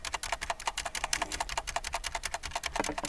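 Enter key pressed again and again on a computer keyboard while Linux file commands run, giving a rapid, steady train of crisp clicks up close with no talk.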